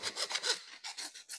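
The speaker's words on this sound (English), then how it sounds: "Just file it down nice and smooth." A file rasps back and forth across the cut end of a plumbing pipe, taking off burrs in about seven quick, close strokes, alone and fairly quiet.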